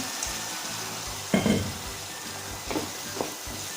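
Boiled water is poured into a pan of cooked vegetables while making savoury namkeen sewai, giving a few sharp sizzling bursts over a low steady hiss, with one bigger splash and sizzle followed by smaller ones.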